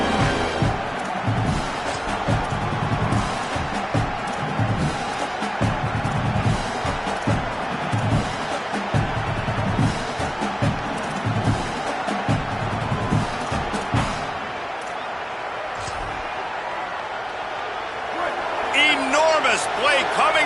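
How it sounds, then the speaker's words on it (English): A loud, dense football stadium crowd at Michigan versus Oklahoma roars and cheers continuously on a big third-down play, a broad wall of noise with a play-by-play commentator talking over it throughout. "this crowd is bringing down the house"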